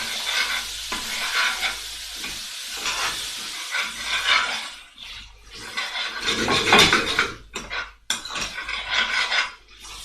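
Chilli chicken being stirred and scraped around a hot pan with a utensil after chilli flakes go in, sizzling and frying steadily under repeated scraping strokes throughout.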